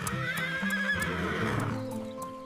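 Cartoon horses on a farm neigh and whinny in long wavering calls, with a hint of clip-clopping hooves, loud and close over light background music.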